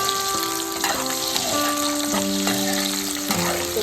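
Baby eggplant masala curry with tomatoes is stirred in a hot pan, giving a close, continuous sizzle broken by several scraping stirring strokes, with no voices.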